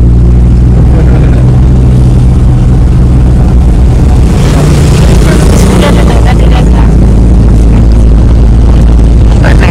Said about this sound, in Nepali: स्कुटर यति ठाडो उकालो डबल लोड राख्न गाह्रो हुन्छ, बिस्तारै कुर्छ